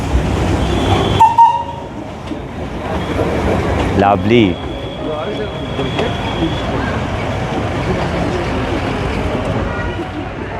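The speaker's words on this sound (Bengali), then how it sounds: "ট্রেনটা এবার এখান থেকে বেরোচ্ছে" Darjeeling's narrow-gauge toy train passes through the Batasia Loop, its rumble and clattering wheels with a brief squeal carrying steadily under an outdoor hill-station crowd, while a person speaks briefly nearby.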